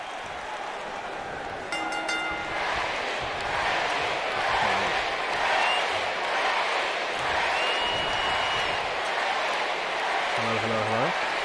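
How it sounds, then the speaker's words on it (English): Crowd noise from the wrestling video game WWE 2K19 roars as a steady, fairly loud wash of cheering, with brief game tones and effects rising over it. "Right, I've turned the crowd noise down."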